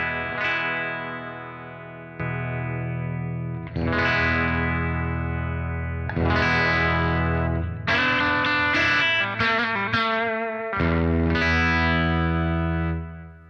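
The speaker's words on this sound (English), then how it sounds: "I have an option to disengage the negative feedback, and I hope it's not going to clip out anything" Electric guitar through a tube amp with its negative feedback switched off, giving distorted, effect-laden chords and notes with reverb and echo; several loud, sustained strums ring out close, with no talking.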